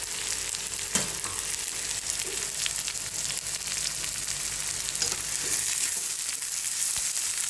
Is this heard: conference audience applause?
no